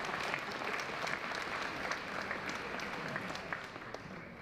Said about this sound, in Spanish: Sí, sí, podéis aplaudir si queréis.